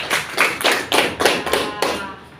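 Rhythmic group clapping in a classroom, about six sharp bursts in a steady cheering pattern, loud and close.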